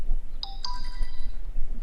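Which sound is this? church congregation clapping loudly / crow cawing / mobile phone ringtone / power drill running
mobile phone ringtone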